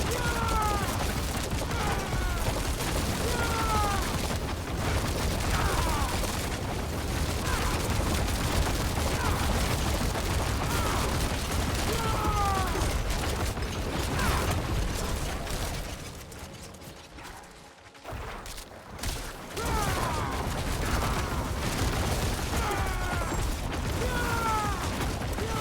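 Diablo 4 Artillery Shrine fire comes as dense, continuous rapid clattering blasts with mechanical ratcheting, loud and near, briefly thinning midway before surging again, under excited talk.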